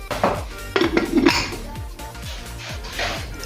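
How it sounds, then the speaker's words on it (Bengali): A metal pressure cooker lid is set down and clanked shut over simmering moong dal on a gas stove, giving several sharp clinks and rattles close by within a few seconds. "এখন গ্যাসের ফ্লেম একদম কমিয়ে দেবো আর প্রেসার কুকারে ঢাকা চাপা দেবো"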